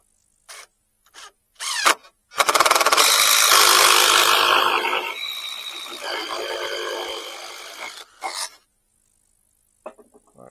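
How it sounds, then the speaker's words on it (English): A power drill bores a hole in a piece of wood for a large homemade clothespin. The motor whines loudly for several seconds and then eases off, with short knocks and handling clicks before and after it. "So I'm going to go ahead and drill"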